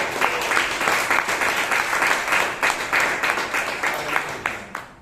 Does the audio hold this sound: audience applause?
yes